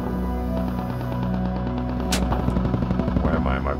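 In Squad, gunfire aimed at the player rattles in quick repeating bursts over a low vehicle engine hum, growing denser toward the end as a voice talks over it.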